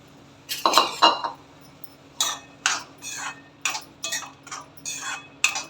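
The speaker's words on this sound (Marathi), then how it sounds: "त्याच्यामध्ये आपण रवा आधी भाजून घेऊया" Semolina (rava) roasts in a little oil in a hot kadhai, heard as a series of scraping, clinking strokes of a spoon against the pan, irregular and fairly close, with no talk.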